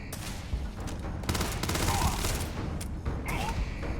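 Gunfire in the video game Starfield, a burst of rapid automatic shots and a rattling fusillade over several seconds, fairly loud within game ambience.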